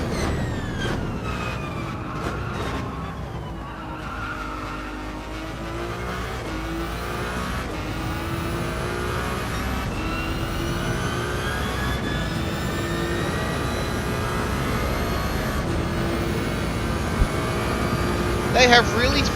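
A Ferrari race car in Gran Turismo 7 screams through its gears at Yas Marina, engine whine rising and falling continuously at high volume, with people talking over the game audio throughout.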